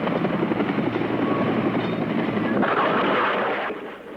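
Helicopters lift off from the U.S. Embassy during an evacuation, their engines and rotors making a loud, steady broadband roar that stays even throughout and fades slightly at the very end.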